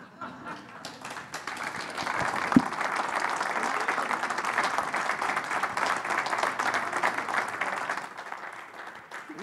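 An audience applauds at the end of a talk about water extraction and subsidence in Aguascalientes, a sustained wave of clapping that swells, holds steady for several seconds, then fades.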